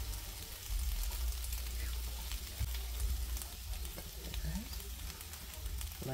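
Bacon sizzles and crackles in a frying pan, a continuous close hiss with occasional brief pops and stirring sounds, no talking over it.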